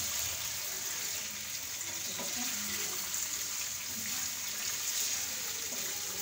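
Chicken tikka pieces frying on high heat in a karahi, a steady dense sizzle that holds evenly throughout, close and fairly loud.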